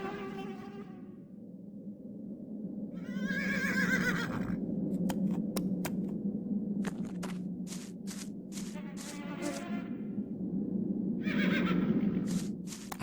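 Horses in a stable in the video game The Black Mirror, with two clear, echoing whinnies several seconds apart over a low rumbling background and scattered sharp knocks.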